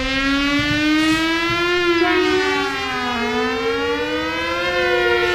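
A civil defense style siren wails loudly and steadily as a sound effect in a radio drama, its tone slowly rising and falling in long sweeps, alone with no voices.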